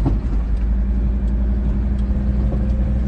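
Trotro minibus on public transport, a heavy low engine rumble droning steadily from inside the vehicle, loud and close, with no one talking.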